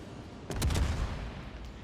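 Cruiser guns fire at a Bismarck battleship in World of Warships: Legends, a quick cluster of two or three heavy booming shots rolling into a rumbling tail under low background ambience.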